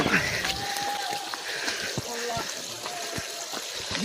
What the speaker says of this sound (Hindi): ये पहाड़ को चीर के निकलता हुआ पानी।